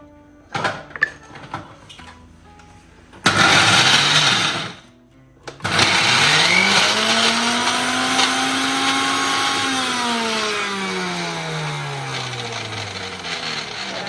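A kitchen mixer grinder whirs through Kashmiri chilli chutney (urula chamanthi). A few short clicks come first, then a loud burst of grinding that stops, and after that a longer run whose pitch slowly drops as the motor loads and unloads.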